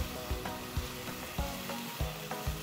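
Doubanjiang spicy bean sauce frying in a pan for mapo tofu, a soft continuous sizzle broken by regular stirring scrapes and taps about every third of a second, close and quiet, no voices.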